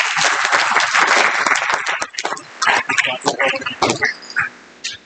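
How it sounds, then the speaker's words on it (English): An audience at an architecture and heritage training event applauds, a dense burst of clapping that thins into scattered, uneven claps before fading out. "Please give a big round of applause."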